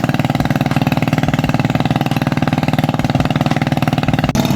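A loud engine chugs steadily with a fast, even mechanical pulse at a fishpond, close and constant, with no voices.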